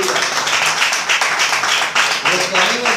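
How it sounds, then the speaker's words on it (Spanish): A church congregation applauds during a sermon, with dense, loud, continuous clapping and voices calling out over it. "Denle un aplauso al Señor."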